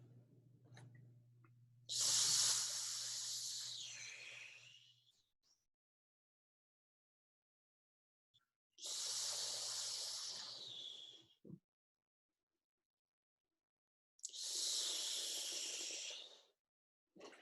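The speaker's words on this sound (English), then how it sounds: "Breathing out to the nose." Three long, forceful exhalations through the nose during a guided breathing exercise, each a breathy rushing hiss lasting about three seconds, separated by quiet pauses, with a low hum under the first.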